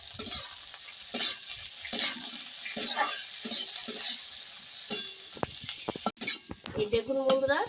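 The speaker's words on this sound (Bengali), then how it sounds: "এইবার আমি দিয়ে দেবো এই যে কুমড়ো ফুল, ভালো করে একটু জলটা চিপে একটু ভেজে নেব পেঁয়াজ কালো জিরের সঙ্গে।" Pumpkin flowers frying with onion and nigella seeds in a pan, a steady sizzle broken by repeated scrapes and clinks of a stirring spoon, close and fairly loud.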